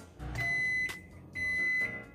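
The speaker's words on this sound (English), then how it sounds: "Then we put it in the microwave for 4 minutes." A kitchen microwave oven heating noodles gives two long, clear electronic beeps in succession over a faint background hum, close and moderately loud.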